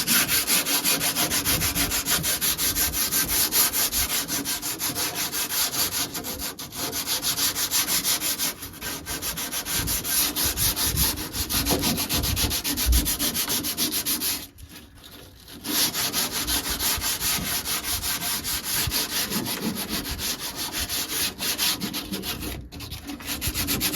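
Continuous hand sanding with 240 grit sandpaper on an old Karmann Ghia dashboard, a steady close scratchy rasp with one brief pause midway and no talking.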